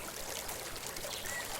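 Water runs steadily from a battery-powered pump into a swimming pool built from PVC pipes, a continuous soft pouring and trickling wash heard alone at low level.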